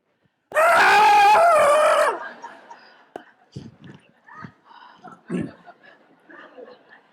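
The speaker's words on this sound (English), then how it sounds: "We heard a scream in the other room." A loud, sustained scream of about a second and a half from another room opens the scene, followed by scattered thuds, shuffling and faint movement in a comedy stage performance.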